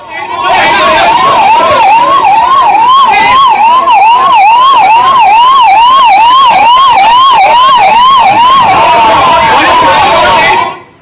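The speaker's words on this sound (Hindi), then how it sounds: "उसके बाद देखिए मौके पर एम्बुलेंस एक के बाद एक पहुंची है क्योंकि अस्पताल खाली किया जा रहा था।" Ambulance sirens wail in a steady, fast repeating up-and-down cycle, loud and close, as emergency vehicles arrive one after another at a hospital being evacuated after a fire.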